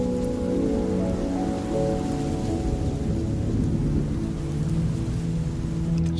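Steady heavy rain pours onto surfaces while thunder rumbles low and continuous beneath it, a dense, unbroken storm wash with no voices.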